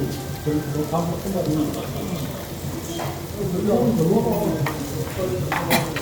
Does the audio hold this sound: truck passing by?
no